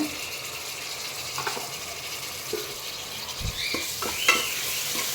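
Long-cut tomato pieces are stirred in a frying pan for meal maker veg pulao, giving a soft continuous sizzle with a few scraping and clinking utensil sounds.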